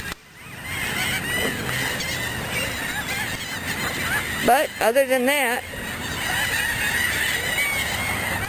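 Ducks call from a shoreline in the Gulf oil spill area, a short burst of honking quacks in the middle of a steady windy outdoor background, fairly close and loud.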